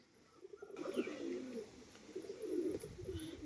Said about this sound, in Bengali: দেখে নিন পায়রা জোড়া।